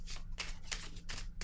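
Tarot cards being shuffled by hand, a run of soft riffling bursts repeating about every third of a second, close and fairly quiet, with no voices over it.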